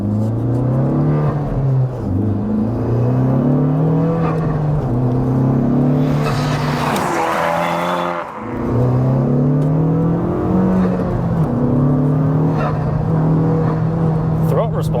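A 385bhp Honda FK2 Civic Type R pulls hard under throttle, engine tone rising through the gears with a brief lift and shift midway, loud in-cabin drone with turbo whoosh and road noise.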